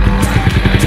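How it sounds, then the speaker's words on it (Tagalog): A large motorcycle at a village fiesta rumbles nearby in a short, steady burst of engine noise with a pulsing, throbbing beat. "Ito, malaki ang kanilang motor"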